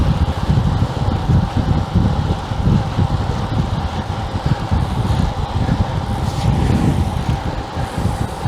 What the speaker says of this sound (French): Ah, il y a un petit vent quand même.